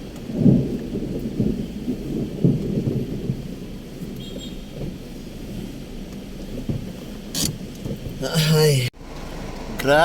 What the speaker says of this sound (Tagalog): grabe ang ulan dito sa Manila